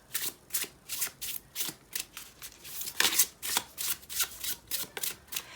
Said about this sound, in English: I must say it shuffles like a dream.